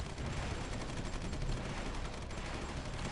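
Dense, continuous rattling gunfire as units shoot down anti-ship missiles in the strategy game Supreme Ruler 2020, a loud unbroken wash of rapid shots.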